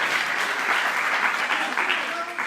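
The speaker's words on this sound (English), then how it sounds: "Round of applause for Sumaya." A round of audience applause for Sumaya Aziz, who is called up from the crowd: dense, steady clapping throughout, near and fairly loud.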